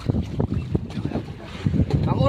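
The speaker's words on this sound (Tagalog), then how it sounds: "Tumutunog na yung bangka nila." A motorized bangka boat's engine runs at sea, a low rumbling drone mixed with gusty wind noise on the microphone while people talk nearby.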